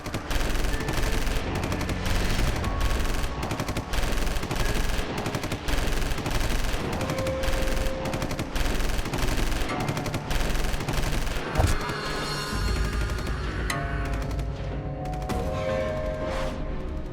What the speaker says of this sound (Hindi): बहुत बरसाली गोलियां, अब इंडियन आर्मी की बारी है।